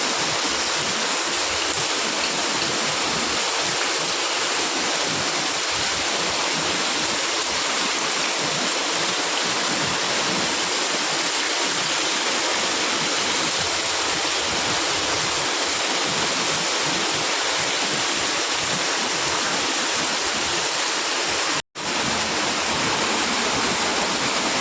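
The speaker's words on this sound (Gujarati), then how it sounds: "જો જોરદાર પાણી પડી રહ્યું છે" Heavy rain pours down in Dholka after hours of downpour, a steady, dense roar of falling water that holds evenly throughout, with one brief dropout near the end.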